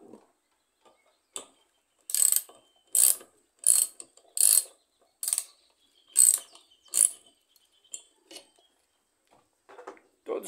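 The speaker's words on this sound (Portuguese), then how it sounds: "Olha, tem alguma coisinha raspando, tem um barulhinho." Adapted washing-machine tub motor being run, giving about nine loud, evenly spaced bursts of mechanical whirring with a faint scraping, separated by brief quiet gaps.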